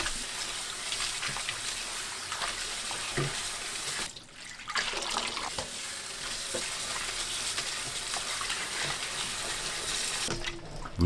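Chives being rinsed in cold water at a kitchen sink after blanching, a steady broadband wash of running and splashing water with clattering handling, briefly dipping near the four-second mark and ending with a sharp knock.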